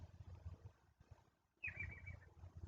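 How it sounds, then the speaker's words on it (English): A single bird call, a bright trill that rises then falls, rings out clearly for about a second in the outdoor air over a low background rumble. "Listen to that beautiful bird."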